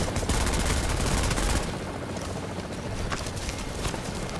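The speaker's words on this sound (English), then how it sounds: "What is this man shooting at though?" Dense rattling gunfire from Tom Clancy's The Division, a busy, continuous fusillade of rapid shots that is heaviest at first and then continues a little lighter, with no talking.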